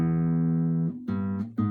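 Electric guitar plays a short fragment of a riff: a sustained note, then two quick plucked notes in succession, clear and close, with no talking.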